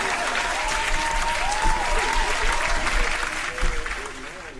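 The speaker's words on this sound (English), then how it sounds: "That's a hand clap." Crowd applause running steadily throughout at a moderate level, with whistling tones and some voices mixed into the dense clapping wash.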